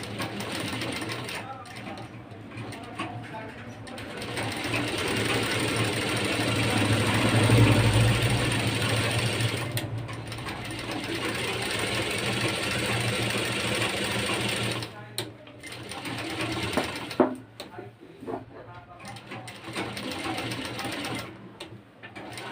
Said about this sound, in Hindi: अब इसको हम बराबर से इसको इस पर सिलाई चलाएंगे अस्तर पे।